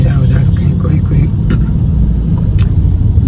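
Busy road jammed with cars in an Indian town, a steady loud low rumble of idling and creeping vehicles with brief higher engine or horn bursts, while someone talks over it throughout.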